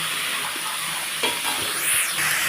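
Shredded cabbage fries in a pan with panch phoron and bay leaf over high heat, giving a steady close sizzle with a few soft stirring scrapes.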